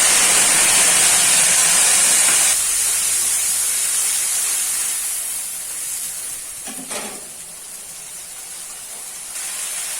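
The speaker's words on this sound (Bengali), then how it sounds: "তেলটা গরম হয়ে গেছে আমি পেস্ট করা মশলাটা দিয়ে দিলাম" Ground spice paste hits hot mustard oil in a wok for a gatiya vegetable curry, giving a loud, bright sizzle and hiss that settles to a steady, softer frying crackle with a brief stir partway through.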